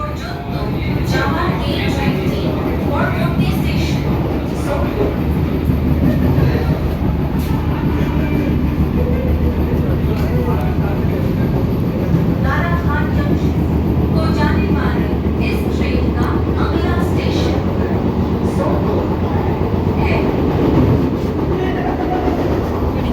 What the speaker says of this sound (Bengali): আর এই ট্রেনের অ্যাক্সেলারেশন বলতে গেলে মারাত্মক অ্যাক্সেলারেশন।